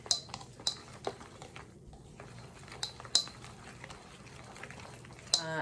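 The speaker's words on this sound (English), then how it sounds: "All right, so now you just want to whisk." Beer batter of pale ale for cod is whisked in a bowl, with soft scraping and sharp clinks of the whisk against the side, quiet and intermittent, and faint background hiss.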